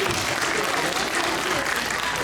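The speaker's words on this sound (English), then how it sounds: "So a big round of applause to the executive committee." An audience at an Onam community gathering gives sustained, dense applause, steady and loud throughout, with no pauses.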